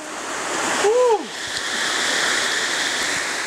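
Steady rushing water from a forest stream runs through the whole stretch, loud and close, with a brief rising-falling tonal sweep near the start.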